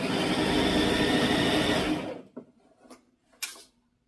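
A home sewing machine stitching a dress runs in a steady, loud whirring hum for about two seconds, then stops, followed by a few faint clicks and a sharp handling tap.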